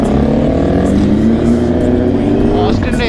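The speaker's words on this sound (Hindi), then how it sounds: "ऑस्टिन रेसिंग का कैन लगा है, अलग ही हल्ला कर रही है" Kawasaki Ninja 650 motorcycle fitted with an Austin Racing full exhaust system, a loud continuous engine roar that rises in pitch near the end, close and dominant with a voice talking over it.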